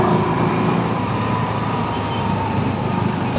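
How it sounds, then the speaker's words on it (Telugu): Heavy city road traffic heard from a KTM Adventure 390 motorcycle, a loud continuous rumble of cars, trucks and buses with steady engine drone and wind. "ఓహో, ఫుల్ ట్రాఫిక్ ఉంది మొత్తం ఈరోజు."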